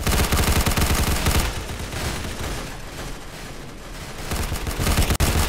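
Rapid gunfire in a Roblox shooter, a dense loud barrage for the first second and a half, then continued softer shots with a sharp crack near the end.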